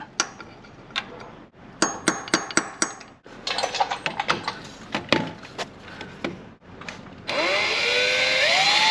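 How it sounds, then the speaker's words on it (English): Sharp metallic taps of a center punch being hammered into metal come in quick irregular bursts, then a power drill whines up at the end. "Just get like a little punch and kind of punch a slight dent in the center"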